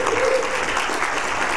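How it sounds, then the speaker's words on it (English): A church congregation claps their hands for God during a sermon, a steady, dense wash of applause with no gaps, heard alone. "Can you clap your hands for God"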